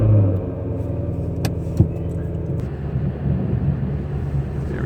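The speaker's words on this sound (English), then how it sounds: "a cold start." A Ford Mustang GT starts from cold on an icy winter evening, opening with a loud, close engine roar. It then settles into a steady, deep, rumbling idle with a few small clicks, and no one talks.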